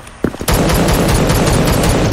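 Rapid close gunfire from a semi-automatic weapon in the video game Krunker.io, a couple of sharp shots followed by a dense, loud continuous volley.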